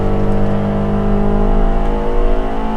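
Spec Miata race car at Harris Hill, heard from inside the cockpit as the engine is blipped on heel-toe downshifts: a loud, continuous, harmonically rich engine drone that holds steady throughout with no voices.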